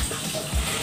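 Water drains off soaked glutinous rice for puto maya, a brief soft gush and trickle close by, heard alone.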